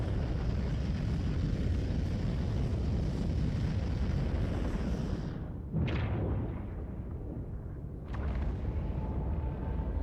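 Engines boost on an RSI Hermes spaceship in a video game as a loud, steady roaring thrust, cut by two sharp bursts with brief dips in between.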